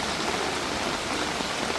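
Steady rain falls on a pigeon loft, a dense, even patter that holds at the same level throughout with no voices.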